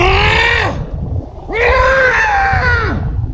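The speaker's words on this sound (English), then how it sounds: "free solo screams are the funkiest" A free solo climber's victory scream, two long, loud, raw yells, the second one longer, carried on an outdoor breeze.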